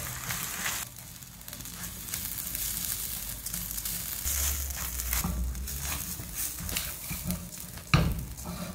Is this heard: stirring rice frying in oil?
yes